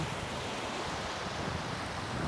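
Steady rushing surf of ocean waves meeting from opposite directions off Kalanggaman Island, a dense broadband wash with some wind noise on the microphone, no voices.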